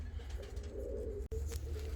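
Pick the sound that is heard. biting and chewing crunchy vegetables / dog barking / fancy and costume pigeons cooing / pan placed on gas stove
fancy and costume pigeons cooing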